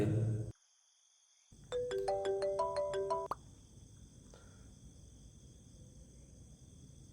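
A phone rings with an incoming call, a melodic ringtone of rising tonal notes that plays loud and clear for about two seconds and then stops, leaving a quiet room hum.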